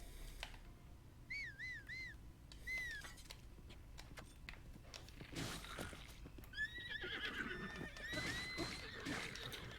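Horse in the video game The Legend of Zelda: Breath of the Wild gives several short, high wavering neighs and whinnies, with clip-clop hoofbeats and game sounds between them.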